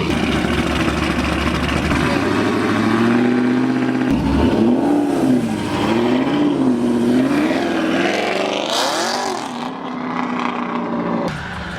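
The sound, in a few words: car doing a burnout, engine revving, leaving a car meet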